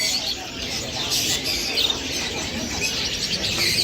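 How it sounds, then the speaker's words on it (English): Chirps and calls from many caged birds and parrots at a bird market in Hong Kong, a dense, steady chatter of tweets and squawks filling the scene throughout, with a faint background bustle. "lots of beautiful yellow, blue, green birds right here"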